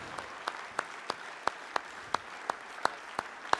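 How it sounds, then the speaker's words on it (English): Winners of a start-up competition receive applause heard as a sparse, evenly spaced series of distinct claps, about three per second, at moderate volume. "Another round of applause, please, for our winners for our startup competition."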